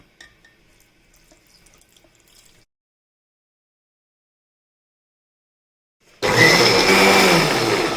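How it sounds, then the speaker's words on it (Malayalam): After several seconds of near silence, a mixer grinder kicks on loudly, grinding a wet mix with added water in a steady, close whirring roar that lasts to the end. "കുറച്ച് വെള്ളം ഒഴിച്ച് നമുക്ക് ഒന്നുകൂടെ അരച്ചെടുക്കാം"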